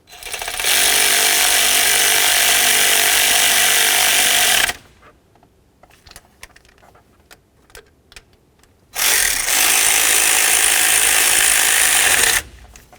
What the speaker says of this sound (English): Snug up those bolts.